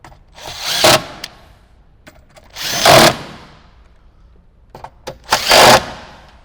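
A power tool drives bolts tight inside a 2018–2023 Jeep JL Wrangler, three loud whirring bursts about two seconds apart, each rising and cutting off, with small clicks and knocks between them.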